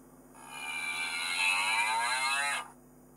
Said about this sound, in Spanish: Y la vaca hace...